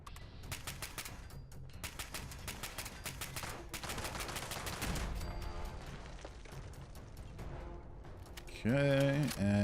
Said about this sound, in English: And I hear something shooting.